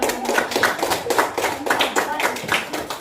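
Students in a classroom group-work lesson at an Islamic school clap their hands together in a brisk, fairly regular rhythm, close and loud, with voices mixed in.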